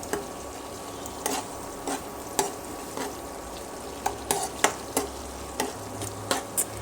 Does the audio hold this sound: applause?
no